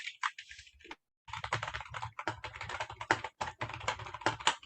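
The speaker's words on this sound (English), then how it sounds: "Loud mechanical keyboard." Rapid, uneven clatter of keys being typed on a loud mechanical keyboard, close and steady with a brief pause near the start, no voices over it.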